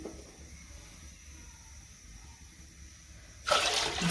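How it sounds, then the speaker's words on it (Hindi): Quiet low rumble, then about 2 litres of water suddenly gushes and splashes loudly into a wok for the final half second. "हम कढ़ाई के अंदर 2 लीटर पानी डालेंगे।"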